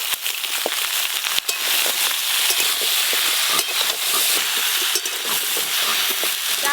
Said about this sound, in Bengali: তেল খুব ভালো করে গরম হয়ে গেছে, আলু আর পটল একসঙ্গেই ভেজে নেব।